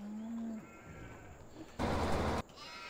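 In Farming Simulator 2017, a sheep bleats a couple of times against a quiet background, with a brief burst of louder noise near the end.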